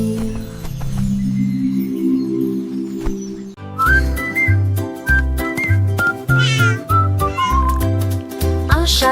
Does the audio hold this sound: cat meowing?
yes